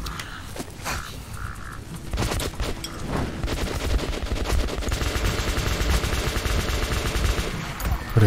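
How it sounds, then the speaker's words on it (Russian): Rapid automatic gunfire in Metro Last Light Redux on survival hardcore difficulty, dense bursts of shots filling most of the stretch over a busy, loud game background. "Хрен знает, куда стреляю."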